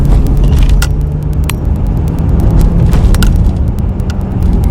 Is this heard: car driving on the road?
yes